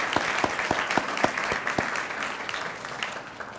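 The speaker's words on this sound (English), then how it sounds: "big round of applause for them, by the way." Audience applause at a citizens' academy graduation ceremony, a steady patter of many hands clapping with a few sharp individual claps standing out early, then settling into an even, sustained ovation.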